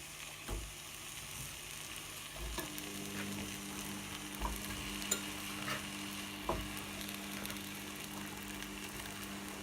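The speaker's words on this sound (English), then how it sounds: "next I'm going to add in the cauliflower" Cauliflower tumbles into a pot and is stirred, giving a soft ongoing sizzle with a few spoon knocks and scrapes spread through the clip, fairly quiet, close and without talk.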